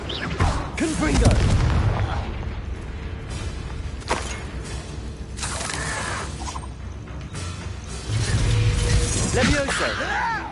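A Confringo blasting curse explodes in Hogwarts Legacy amid spell combat, with sharp booming blasts, crackling debris and mechanical clatter arriving in several bursts, while a voice shouts spell names over the action.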